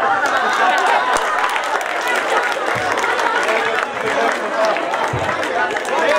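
A graduation ball audience in Stepojevac applauds steadily, a dense, unbroken wash of clapping and crowd noise that stays loud for the whole stretch, with some cheering and chatter mixed in.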